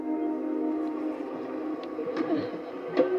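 Train passing in the video game Mirror's Edge Catalyst; a sustained rumbling, droning rush with a few brief clanks and metallic accents rising toward the end, heard alone without speech.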